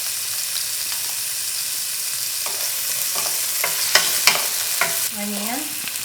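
Garlic fries in hot oil in a pan, with a steady hiss underneath and a few sharp scrapes and taps as it is stirred, then a brief squeak near the end.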